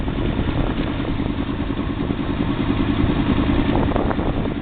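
Yamaha Venture V-4 touring motorcycle cruising at 20 mph in fifth gear around 1,500 RPM, carrying two riders and fully loaded; a steady, close low engine drone with rhythmic mechanical pulsing runs continuously.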